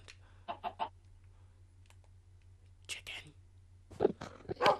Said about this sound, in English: Chicken! What's that sound?